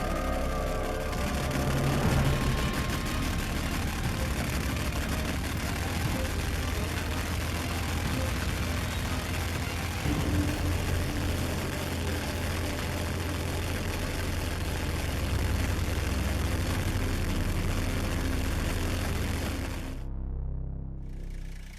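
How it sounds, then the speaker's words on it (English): A 1912 Gardner 2F stationary engine runs steadily and close, its low, heavy throb continuous and unbroken for about twenty seconds before cutting off abruptly, with no talk over it. "mechanical power relied on minimalist designs like the 1912 Gardner 2F stationary engine"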